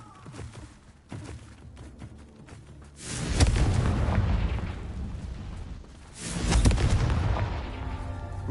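Confringo spell blasts go off in the video game Hogwarts Legacy, two loud booming bursts with rumbling tails, separated by quieter game sounds and no talk.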